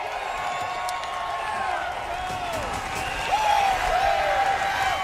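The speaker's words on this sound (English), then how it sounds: "as you hear the Texas fans cheering him on" Texas race fans at a stock car race cheer and chant for a driver, a steady broad crowd roar that swells louder midway, with a voice calling out over it.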